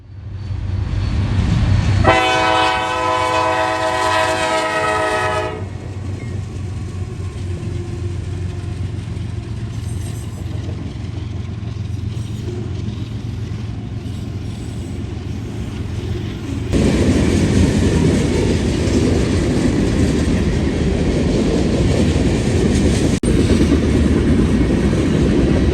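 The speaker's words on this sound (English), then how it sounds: "CSXT 9051 leads M332 out of London" CSX freight train M332, led by CSXT 9051, rolls out of London on the CSX Indy Line, sounding a multi-tone horn blast for a few seconds, then rumbling and clattering past nearby, growing louder as the cars pass.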